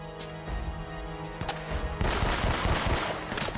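Gunfire rattles through an Uncharted video game battle, with rapid bursts of shots and impacts over a steady game-soundtrack hum that grows into a dense, loud fusillade in the second half; no talking.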